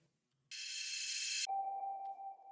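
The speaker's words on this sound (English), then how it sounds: "this one I actually made with the operator, just like a little submarine boop" A synthesized submarine-style sonar boop made with the Ableton Operator synth serves as a transition effect: a bright, sustained tone gives way to a steady, clean pitched beep that rings on against silence, clear and isolated.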